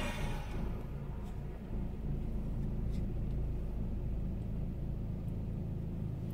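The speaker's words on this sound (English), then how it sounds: "Now I'm stuck in a bunch of traffic again" Car traffic rumbles around a vehicle stuck in slow-moving congestion, a low, continuous drone with faint passing whooshes and no talking.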